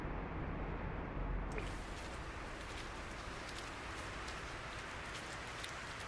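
A boiling rain storm on an alien planet in a space video game: a steady, dense rain hiss with fine crackling drops, continuous and fairly loud throughout.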